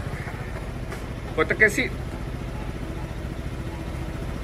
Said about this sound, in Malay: ini enjin tengah start enjin tengah start